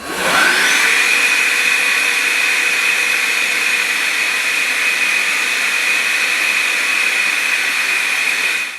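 A DeWalt 501 cordless vacuum cleaner spinning up and then running at a loud, steady whine with a strong high tone and airy rush, close and continuous, with no voices.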